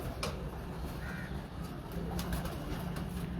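Cheena pigeons at a breeder's loft give low, soft coos, faint and intermittent against a constant rushing background hiss, with a few light clicks and rustles.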